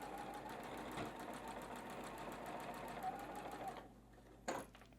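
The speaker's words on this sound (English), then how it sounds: "Sew on through." Steady, rapid stitching from a sewing machine joining quilt squares along an edge guide, close and even for several seconds, then stopping with a brief clack near the end.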